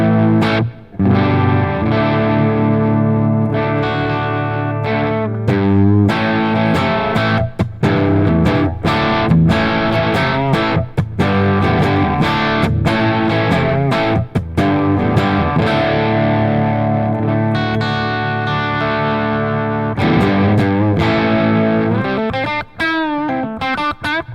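Electric guitar played through a REVV D40 Dynamis amp with the bright option off and extra gain, a dense, sustained distorted tone with steady chords and picked notes running loud and unbroken, ending in a sweeping effect.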